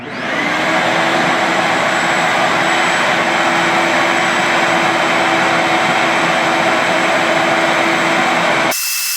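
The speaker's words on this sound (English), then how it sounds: "it's going to be vacuuming the speaker up" A vacuum cleaner drones loudly and steadily while pulling dust off a Yamaha S4115H loudspeaker cabinet, a constant close whine that cuts off abruptly near the end.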